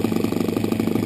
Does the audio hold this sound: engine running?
yes